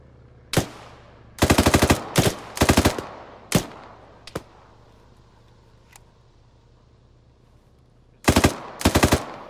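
Gunfire in the Arma military shooter game with the ShackTac group: several short automatic bursts and single sharp shots, loud and close, separated by pauses and a long gap before two final bursts.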